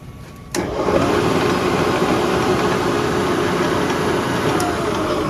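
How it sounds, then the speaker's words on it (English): A milling machine switches on and runs with its cutter spinning, a sudden start followed by a steady, close mechanical hum and whir that holds evenly throughout with no talk. "when you turn it on, I'll turn it on and show you."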